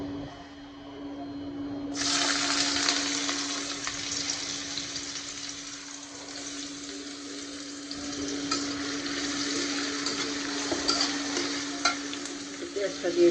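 Chopped onion dropped into hot oil in a kadai for a chicken roast bursts into a loud sizzle after a quiet moment, then keeps frying steadily with intermittent stirring scrapes, no voices.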